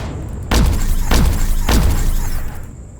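Three heavy cannon blasts from a ship in Empyrion, each a deep booming thud with a sharp crack, spaced about half a second apart and loud over a steady humming background.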